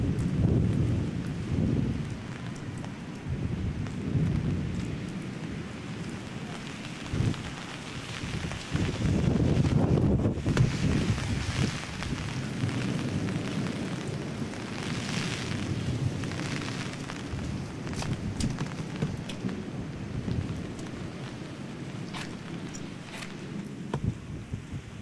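A torrential thunderstorm in Baix Llobregat near Barcelona, with rolling thunder, heavy rain and gusting wind buffeting the microphone, loud and continuous for the whole stretch.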